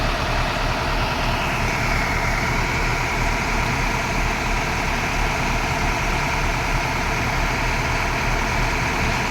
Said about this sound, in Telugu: బండి కూడా స్టార్ట్ అయిపోయింది